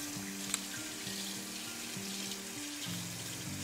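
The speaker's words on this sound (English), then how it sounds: "Give my coffee press a rinse, because I will still need it." A coffee press is rinsed under a running tap, with a soft steady water hiss and splashing at moderate distance, joined by a faint repeating tonal melody in the background; nobody speaks.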